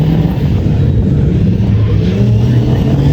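A Ford Puma Group B rally car at a Race Retro event roars past nearby, its engine note loud and sustained, rising and shifting in pitch as it passes, with no talk over it.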